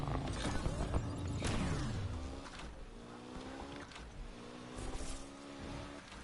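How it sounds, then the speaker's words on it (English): A twin-turbo V8 car in the racing game Need For Speed Unbound runs quietly, a subdued engine hum with shifting rising and falling tones and faint whooshes, low in level throughout. "This car is supposed to have a twin-turbo V8, and I'm barely hearing it."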